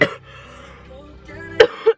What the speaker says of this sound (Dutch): ik blijf gewoon hoesten.